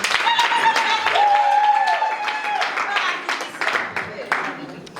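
Wedding guests clap in scattered, uneven bursts alongside voices and a rising whistle, the applause moderately loud and close.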